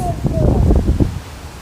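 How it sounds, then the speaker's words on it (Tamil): Wind gusts across the microphone outdoors at a home in Jaffna, a loud, rough buffeting rush with rustling, while a voice speaks briefly over it. "என்ன காற்று அடிக்குது"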